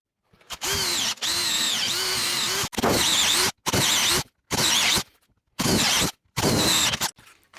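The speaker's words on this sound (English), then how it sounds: "Get out your fattest drill bit and just go all the way through." Power drill with a large bit boring through wood, whirring loudly in repeated bursts, several short runs separated by brief pauses, close up, with the pitch dipping as it bites.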